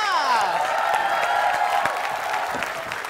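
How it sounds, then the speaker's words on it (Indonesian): Studio audience applauds and cheers comedian Ge Pamungkas on a television talk show, a dense burst of clapping and whoops over a bright musical sting that softens slightly toward the end. "Tepuk tangan buat Ge Pamungkas"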